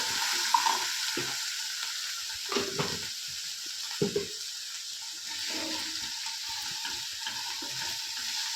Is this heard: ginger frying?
yes